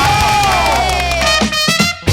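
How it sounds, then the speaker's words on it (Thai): An audience at a Thai magic talk show cheers and applauds loudly, a dense wash of shouting voices with sharp claps breaking through toward the end. "ปรบมือดังๆ"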